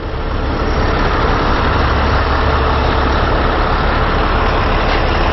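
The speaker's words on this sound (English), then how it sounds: "Look at the double truck here." A heavy double truck idles on a street near a quay, a loud, dense, continuous engine roar with no break, close to the listener.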